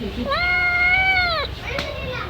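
A cat meows at home, one close, drawn-out tonal meow that rises and holds before falling away, followed by a fainter, shorter sound against a low background murmur.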